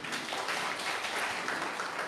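A church congregation applauds after a closing prayer, a steady wash of many hands clapping at moderate volume, continuous and fairly even with no voices standing out.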